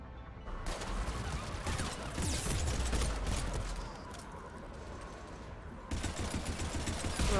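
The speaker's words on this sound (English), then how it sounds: "I came here to shoot people." Sustained heavy gunfire in the Mass Effect 3 video game, a loud, dense barrage of overlapping shots and impacts that barely lets up, easing briefly midway before surging again.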